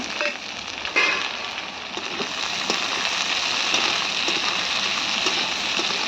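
Peeled, chopped onions frying in a hot pan, a steady, loud, dense sizzle with soft crackles that keeps on without pause and without voices.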